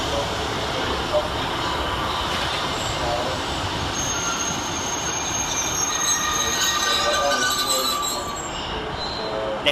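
Transport for Wales Class 152 diesel units arriving at Cardiff Queen Street station, with steady rumble and squealing wheels at moderate level throughout, faint background voices.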